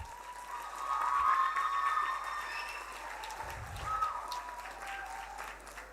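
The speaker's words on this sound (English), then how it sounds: "A round of applause for them, please." Applause from the audience at a secondary school debate competition, a soft, diffuse wash of clapping heard from a distance under crowd murmur and some tonal background sound.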